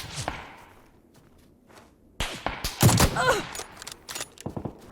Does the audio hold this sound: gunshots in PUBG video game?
yes